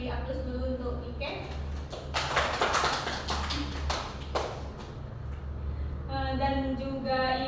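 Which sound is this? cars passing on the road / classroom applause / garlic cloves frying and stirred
classroom applause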